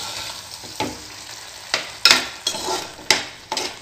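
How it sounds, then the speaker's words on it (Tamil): A spoon scrapes and clinks in a pan as curd is stirred into beetroot pachadi, six or seven sharp strokes over a soft background sizzle, no voices. "தயிர் ஆட் பண்ணி நல்லா கலந்து விட்டுடலாம்"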